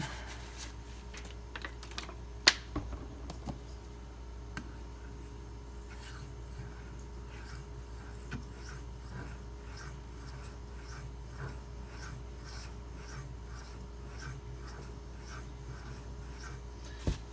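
A Benchmade 9400 knife blade stroked across a fine 8000 grit Shapton Glass stone, a quiet, close series of light scraping passes in a fairly regular rhythm, with a few sharper taps early on.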